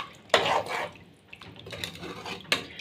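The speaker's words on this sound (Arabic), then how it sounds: "وهنزل عليها بكوبايتين ميه سخنه" Two cups of hot water pour into a pot of meat and onions for stew-style kebab, with splashing, trickling water and a few metallic clinks of the pot and cup, fairly quiet.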